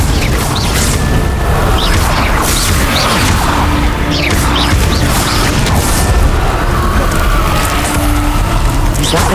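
Incendio fire spell blasts go off repeatedly in Hogwarts Legacy amid a constant loud roar of game effects, with several bursting, crackling hits and mechanical rumbling throughout.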